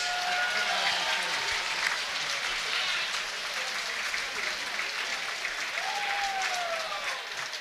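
A mixed martial arts fight-night crowd applauds two fighters after the bout, a dense, sustained roar of clapping and cheering that stays loud throughout, with faint whistles rising above it.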